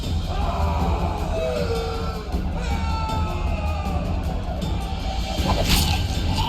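A rioting crowd yells and bellows in The Witcher 2 intro cutscene, a dense roar of many voices with scattered shouts and a crash, continuous and loud throughout.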